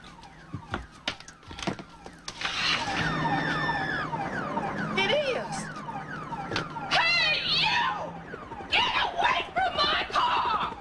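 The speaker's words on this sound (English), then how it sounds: "Sounds like it could be my car alarm." A car alarm blares with rapidly cycling, warbling electronic tones, loud and continuous for several seconds, followed by sharp chirping bursts near the end amid a 1991 sitcom scene.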